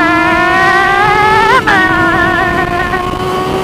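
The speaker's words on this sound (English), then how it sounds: "Harmonizing with the exhaust." Close, loud exhaust drone of a Yamaha R6 motorcycle on the road, a sustained high-revving whine that wavers briefly mid-way with a quick throttle change, then settles back to a steady cruising tone.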